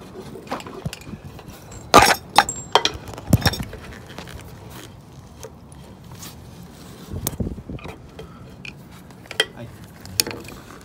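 Small screwdriver clicks and grinds against a stubborn, decaying screw on a boat mast, with a few sharp metallic ratcheting bursts and scattered light taps between quieter stretches, close and moderately loud without talk.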